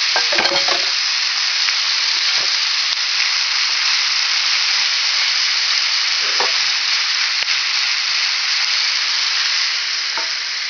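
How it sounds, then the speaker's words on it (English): Cabbage goes into a hot pan on top of sautéed onions and turkey bacon for Hungarian cabbage and noodles, and a loud, constant sizzle follows, broken by a few soft stirring knocks. "now we're going to add the cabbage. I'm just going to put the cabbage right on top"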